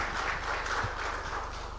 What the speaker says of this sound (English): give Madam Mary Ngetulia and her team a massive round of applause